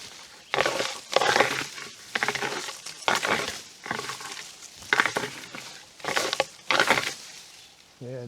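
Raking on trees to imitate a bull moose, heard as a series of rough, crunching scrapes in bursts of about a second each, roughly seven strokes at an irregular rhythm, close and fairly loud with no voices.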